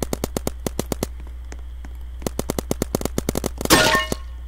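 Rapid bursts of gunfire in a Roblox money gun shooter game: sharp repeated shots in quick volleys with short gaps, ending in a louder noisy blast near the end, no talking.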